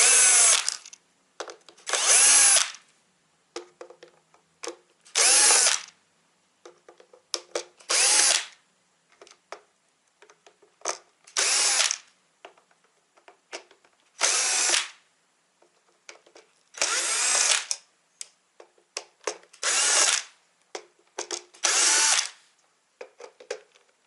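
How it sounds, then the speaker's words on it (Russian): Cordless power screwdriver backing out screws one after another around a Porsche Cayenne 955/957 monochrome instrument panel, with about nine loud, close whirring bursts of a second or two each, separated by short pauses and small clicks of handling. "Берем инструмент, вставляем биту и выкручиваем все винты по кругу."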